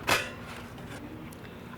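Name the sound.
drip tray pulled out of coffee machine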